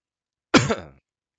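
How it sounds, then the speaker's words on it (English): One short cough, close and isolated, sounding a bit like a throat clear, then silence. "so sorry about the coughing."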